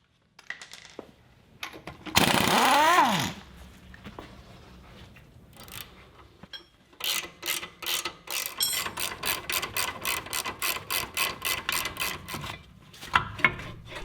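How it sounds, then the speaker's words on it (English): Rear brake caliper mounting bolts come off a Toyota, with close metallic tool work: a burst of whirring from a power tool, then long runs of rapid ratchet clicks. "remove the two mounting bolts from the calipers and support it out of the way with a wire or bungee"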